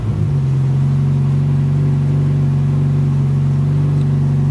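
A Honda CRX engine idles steadily after a new Radium fuel system install, a loud, even mid-pitched hum with a constant rumble and no revving, running alone for the whole stretch.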